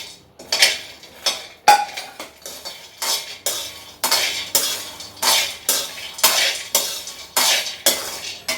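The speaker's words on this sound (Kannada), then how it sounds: "ನೋಡಿ, ಇದಿಷ್ಟು ಡ್ರೈ ಫ್ರೂಟ್ಸ್ನ ನಾನು ಹುರ್ಕೋತಾ ಇದ್ದೀನಿ." Dry fruits, peanuts, almonds and walnuts roast in a pan as a spatula scrapes and stirs them in a steady rhythm of close rattling, scratchy strokes, about one every half second.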